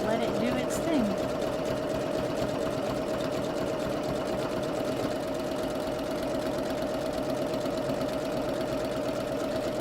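A Janome Magnolia 7330 sewing machine stitches a kilt in one long continuous run, its motor whirring steadily with a rapid, even needle chatter throughout.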